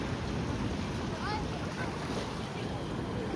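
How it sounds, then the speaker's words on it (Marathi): Rough, swollen sea surf breaks steadily at Kunkeshwar beach during a pilgrims' holy bathing gathering, a continuous broadband roar of waves mixed with wind buffeting the microphone, loud and unbroken throughout. "बघू शकता समुद्राला पण उधाण आलं आहे"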